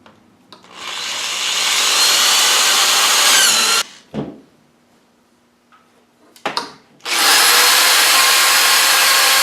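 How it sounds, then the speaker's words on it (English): A power drill whines loudly while boring a hole in a potato gun build, stops briefly with a few clunks, then starts up again at full speed. "I'll take my drill, and I'm going to drill one big hole right here"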